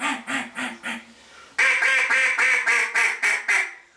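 A duck call gives a run of quick, nasal mallard hen quacks: a softer series first, then a louder, sharper string of evenly spaced quacks, close up.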